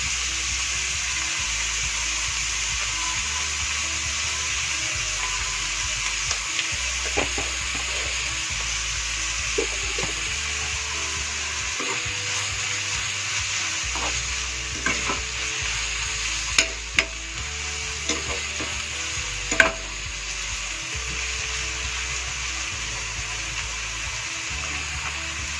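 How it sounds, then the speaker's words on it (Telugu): Onions frying with salt in a pan give a steady, soft sizzle with occasional stirring clicks and scrapes, close by and continuous, with no voices. "చూసారు కదా, చక్కగా మనకి ఆనియన్స్ ఫ్రై అయిపోతున్నాయి ఇట్లా సాఫ్ట్గా"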